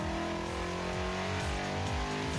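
A car engine on a dyno revs hard and steadily from first through fourth gear to about 6,500 rpm, pitch climbing and dropping with each shift, loud and close with a continuous roar.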